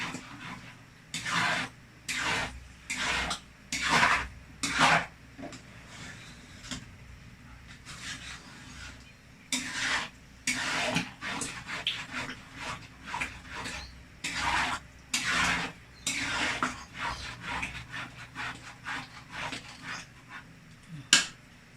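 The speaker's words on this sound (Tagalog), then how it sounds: "Haluin ulit natin para hindi matutong yung ilalim." A utensil scrapes and stirs food in a cooking pot in repeated rhythmic strokes, some in quick clusters, with short pauses between. The stirring sounds close and moderately soft, and no one speaks.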